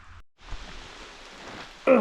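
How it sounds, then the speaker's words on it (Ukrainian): Steady rain patters down in a mountain forest, a soft broadband hiss filling the space, with a brief sharper sound cutting in at the very end. "а дощ лупить. Дощ грибний, затяжний."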